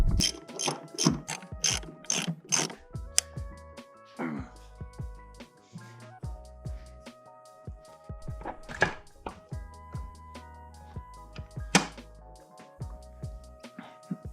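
A hand ratchet works loose the seat bolts inside a Nissan 200SX S15 Spec R, with bursts of rapid clicking pawl strokes, metallic clunks and taps of tools nearby, close and fairly loud.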